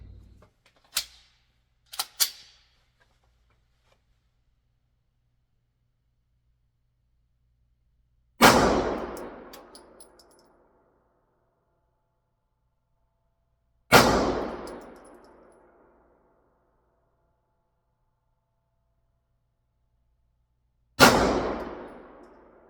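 Three sharp pistol shots fired one at a time at long, even intervals, each a loud crack with a decaying ring, preceded by a few small metallic clicks and handling knocks.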